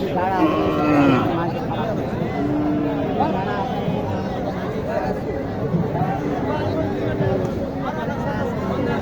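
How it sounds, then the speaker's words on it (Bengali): Gir cattle at a busy rural cattle market in Naogaon low and bellow repeatedly, several moos rising over constant crowd chatter and people talking nearby. "এই যে একটি গির"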